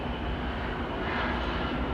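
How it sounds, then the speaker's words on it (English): An Air France Boeing 777 airliner takes off at Atlanta airport, its engines a steady, broad roar heard from a distance throughout. "We'll stick with the Air France 777"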